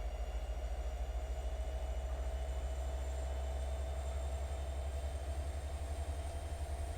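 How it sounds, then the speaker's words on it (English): A locomotive running in Train Sim Classic, a steady low engine drone with a constant rumble and faint high whine, no talk. "Congratulations, you're driving the locomotive."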